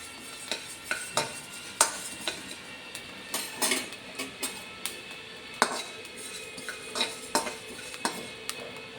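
Rice dry-roasting in a pan, stirred with a spatula: repeated scraping knocks and clinks against the pan at an uneven rhythm over a faint continuous hiss, close and clear with no talk.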